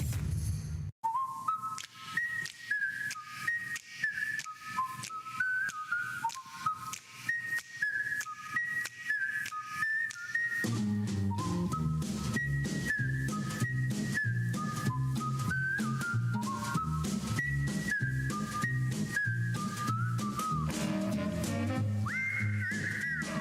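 A long, melodic whistled TV theme tune with bright sliding notes, first alone, then over a full band backing that comes in about halfway.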